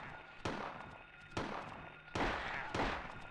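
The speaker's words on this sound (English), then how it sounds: "Oh, gunshots." Four sharp gunshot bangs from a video game ring out at uneven intervals, each decaying slowly with a roomy echo, moderately loud.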